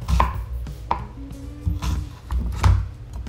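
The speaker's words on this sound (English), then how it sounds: "Simple matter of dicing." A knife dices a sweet onion on a cutting board in a series of close, crisp chops with brief pauses between strokes.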